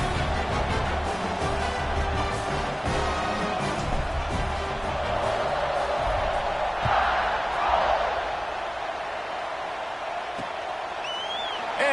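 Stadium crowd in College Football 26, Arizona at #2 Alabama, roaring steadily after a touchdown drive, a dense continuous cheer filling the space with brief swells, a commentator's voice faintly over it.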